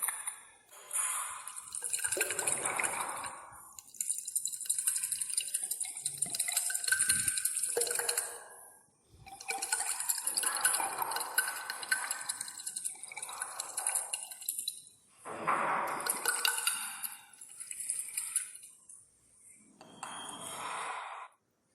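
Distilled water poured into a glass flask to dissolve ceric ammonium sulfate, in several bursts separated by short pauses, a hissing, splashing trickle that rises and falls, close by.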